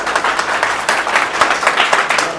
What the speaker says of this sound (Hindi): तो जोरदार ताली बजाइए अपने लिए।